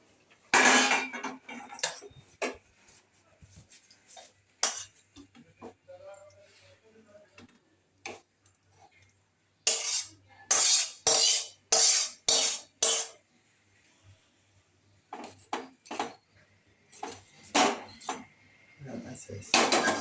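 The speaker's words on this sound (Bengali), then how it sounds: "এবার আমি অন্য পাত্রে ঢেলে দিচ্ছি" Cooked food is scraped and tipped from a cooking pot into another vessel, giving a long run of sharp metallic clinks and spoon knocks, some in quick rhythmic bursts, with quieter gaps between.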